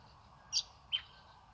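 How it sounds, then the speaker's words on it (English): Two short, bright chirps from a bird, spaced about half a second apart, fairly clear against a faint, quiet background. "The beautiful birds are singing and dancing here for you."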